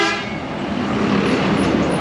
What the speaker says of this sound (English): The chicken bus.